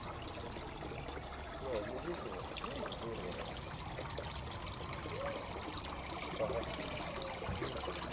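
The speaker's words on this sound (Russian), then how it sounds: "Вот здесь течет, у нас святой источник бьет, из которого вытекает вот эта маленькая речка" A small stream from a holy spring in a park trickles and babbles steadily throughout, a close, continuous burble of running water with a voice speaking over it.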